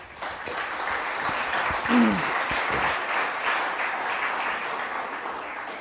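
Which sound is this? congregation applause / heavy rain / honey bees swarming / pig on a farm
congregation applause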